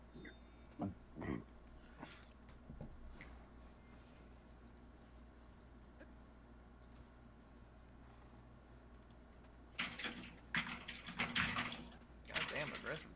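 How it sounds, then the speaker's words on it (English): Aggressive typing on a computer keyboard: scattered sharp key clacks early, then a hard, rapid flurry of strikes near the end, all fairly close over a quiet room hum. "Goddamn aggressive typing."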